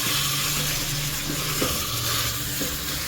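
Tomatoes softening in a hot pan for Hyderabadi dalcha, giving a steady, soft sizzle with faint stirring scrapes, close and low in level, with no speech.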